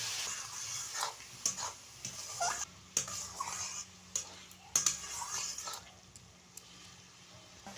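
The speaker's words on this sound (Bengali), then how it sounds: "এবার কেটে রাখা চাল কুমড়োটা কড়াইতে দিয়ে দিলাম।" Cut ash gourd tossed into a wok and stirred with a metal utensil in a village kitchen, scattered scraping clinks over a low steady sizzle and background hum, fairly quiet.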